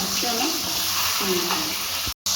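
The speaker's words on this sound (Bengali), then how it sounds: "তেলটা গরম হয়ে গেছে আমি পটলটা হালকা ভেজে নেব" Pointed gourd (potol) fries lightly in hot oil, giving a steady broadband sizzle throughout, with someone speaking over it and a brief dropout near the end.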